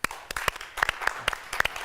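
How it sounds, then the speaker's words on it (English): A studio audience at a morning TV show claps in a quick burst of sharp, overlapping hand claps, close and lively, with no talk over it. "Clap if you are."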